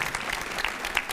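Audience applause at a senior volunteer hall of fame ceremony, a steady wash of many hands clapping throughout, moderately loud and close, with no talk over it.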